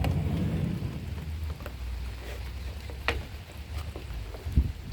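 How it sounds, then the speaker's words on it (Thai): Steady rain falling outdoors, a continuous close hiss with a low rumble underneath and a few scattered louder drops or knocks. "มื่อนี้ฝนตกเด้อพี่น้อง"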